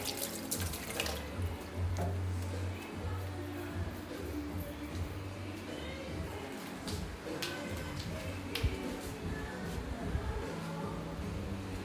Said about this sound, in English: We're washing our spatula.